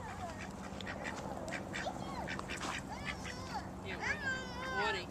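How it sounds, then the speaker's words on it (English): Ducks quacking at a pond, a busy chorus of repeated nasal quacks close by, with children's and adults' voices chattering over them and the calls growing louder toward the end. "Look at all the ducks, girls."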